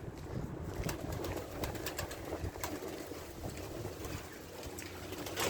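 Pigeons, including escaped blue-pied tumbler pigeons, coo softly while eating feed amid a busy background of rustling and scattered pecking clicks, with no one talking.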